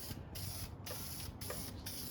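Spray can misting paint onto an RC car body, four short hissing bursts separated by brief pauses, close and fairly quiet.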